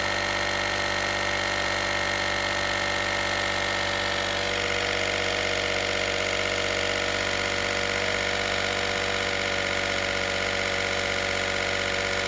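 The small built-in air compressor of a Harbor Freight Viking 1000-amp jump pack runs continuously with a loud, buzzing motor drone and a steady rattling whine. The pitch shifts slightly partway through, and no one talks.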